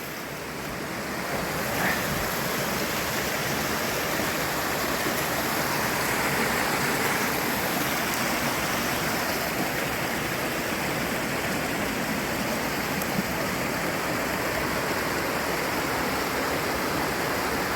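A woodland stream of flowing water rushes steadily, a dense, even broadband hiss that stays loud and unchanging from start to finish, with no voices.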